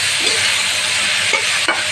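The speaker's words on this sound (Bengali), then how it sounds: "ভালো করে মিশিয়ে নিচ্ছি আমি।" Sajna chochuri, a drumstick curry, is stirred and mixed in a sizzling pan, steady frying hiss underneath with a few distinct scraping strokes of the spoon near the end.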